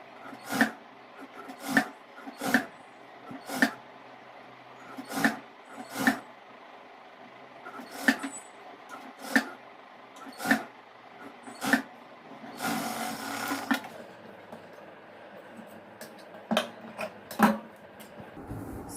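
A sewing machine stitches piping around the neckline of an umbrella-style chudidhar top, with sharp mechanical knocks about once a second and a short continuous whirring run partway through, close and fairly quiet.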